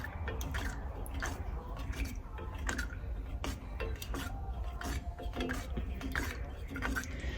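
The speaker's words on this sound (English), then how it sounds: "So now we're just going to give that a little mix in the cup." Lacquer-thinned paint is mixed in a cup, heard as quick, closely spaced clicks and scrapes of a stirrer against the sides over a steady low hum in a spray booth.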